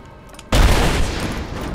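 A sudden loud blast from an explosive arrow in Rise of the Tomb Raider hits after a quiet half second, then rumbles and crackles on, strong and close, to the end.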